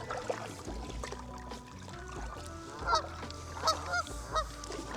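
Geese honk repeatedly in a few loud bursts over a steady low rumble, calls overlapping at close range, on an island near their nest.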